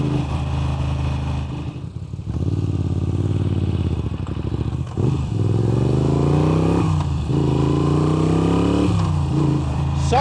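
A Moto Guzzi V7 Stone motorcycle with an upgraded exhaust idles with a deep, lumpy throb, then revs up and down in several rising and falling blips, loud and close.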